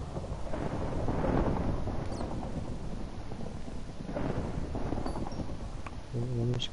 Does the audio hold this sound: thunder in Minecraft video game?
yes